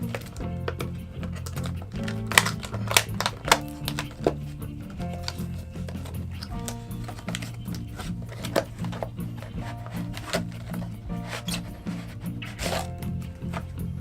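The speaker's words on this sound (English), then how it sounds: "Got a little razor just to cut this open." A small razor blade scrapes and slices through the plastic packaging of a portable hard drive, a run of close, irregular ticking and scratching cuts over a low steady hum.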